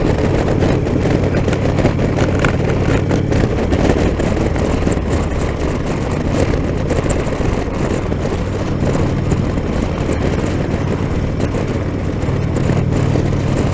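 An Indian Chieftain Elite motorcycle engine drones steadily with exhaust rumble, mixed with constant wind buffeting, loud and unbroken throughout.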